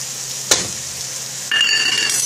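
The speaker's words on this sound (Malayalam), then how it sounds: "മഞ്ഞൾപ്പൊടി മല്ലിപ്പൊടി ചേർത്ത് ഒന്ന് വഴറ്റിയെടുക്കാം" Tomato masala with chili, turmeric and coriander powder sizzles in a pan for chicken kadai, a steady close frying hiss broken by one sharp clack of a utensil, then a louder burst of sizzling as it is stirred.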